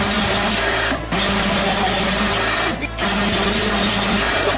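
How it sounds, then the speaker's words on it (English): Steady power sanding of wooden table legs drones loudly and continuously, pausing briefly twice before resuming, with no voices. "final sanding before the gray weathering stuff"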